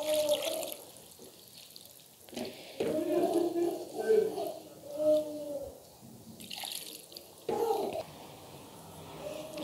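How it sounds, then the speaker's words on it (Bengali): Water is poured into a fish and potato curry made with small fish and tomatoes, a soft, intermittent splashing trickle heard close up, with someone speaking in between. "এখন আমি জল দিয়ে দিচ্ছি"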